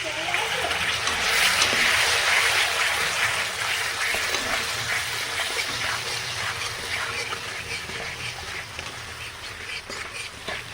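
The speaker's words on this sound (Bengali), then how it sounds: "এবারে জল দিয়ে দেব।" Water goes into a pan of spiced oil for a Tangra fish curry. It makes a loud, steady hissing sizzle with watery bubbling that continues unbroken throughout.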